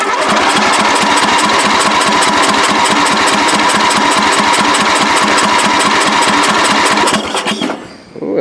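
A free riding lawn mower's engine runs hard with a fast, even chugging pulse that stays loud and close. Near the end it stumbles and drops off before it picks up again.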